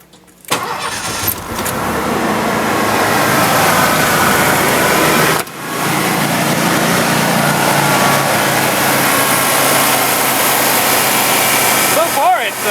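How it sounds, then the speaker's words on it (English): A Ford car engine turns over and catches, then idles loudly and steadily nearby, with a short cutout midway before the idle resumes. "So far it's idling better."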